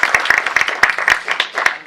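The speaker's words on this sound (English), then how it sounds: "So huge round of applause." A short burst of audience applause at an alumni finance panel, many hands clapping together loudly and densely, with scattered louder claps.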